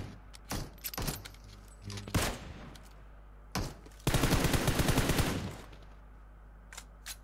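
PUBG Mobile gunfire on an emulator: several short, sharp bursts of shots, then one sustained rapid burst of automatic fire lasting over a second, with a few single cracks after, loud and close.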